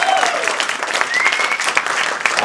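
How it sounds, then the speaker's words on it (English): Audience applause, dense and steady clapping from a crowd, loud and close, with a few faint voices under it. "I want all of you to give Satyam a huge round of applause"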